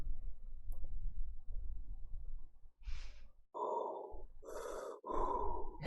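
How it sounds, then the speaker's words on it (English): Heavy, deliberate Darth Vader-style breathing exercise done by a person: a few loud, hoarse, rasping inhales and exhales, each lasting about a second, close to the microphone, following some quieter background noise. "The Darth Vader trick. Teach you some breathing exercises"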